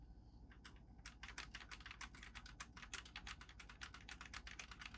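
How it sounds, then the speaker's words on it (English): Steady, quick keystrokes clatter on a Havit KB255 60% wireless mechanical keyboard, a close, crisp run of individual clicks at a brisk, slightly uneven pace with no talking. "here I am typing on one device"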